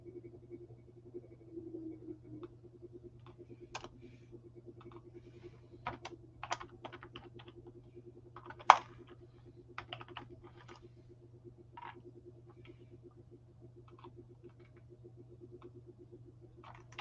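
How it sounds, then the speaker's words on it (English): Someone types on a computer keyboard in an irregular series of soft, close key taps and occasional sharper strokes, quiet and without talk over a low steady hum. "why am I typing crazy things?"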